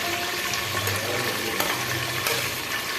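Chopped onion, ginger-garlic paste and tomato sautéing in hot oil in a cooker for chicken biryani: a brief, steady, watery sizzle with light stirring scrapes, close and unbroken.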